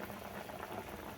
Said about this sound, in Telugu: సాంబార్ ఉడుకుతుంది